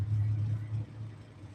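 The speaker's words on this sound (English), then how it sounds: "Cars all night." Steady low engine rumble of cars passing outside a tent at night, a continuous droning hum that swells and eases slightly as vehicles go by, fairly close and loud.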